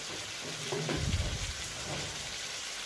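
About 900 g of meat is stirred and fried with onions, a dense close sizzle running throughout, with a low thud and a brief surge of stirring near the middle.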